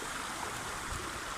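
Steady broadband rush of a clear stream flowing near a waterfall, continuous and fairly close, with a brief sharp knock near the end.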